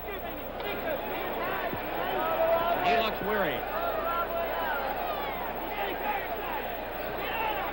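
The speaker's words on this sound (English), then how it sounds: "We hear the exhortations of the crowd." Boxing crowd at a 1975 world welterweight championship bout, round 9, a steady roar of shouting and exhortation in a large arena, with a ringside commentator talking over it.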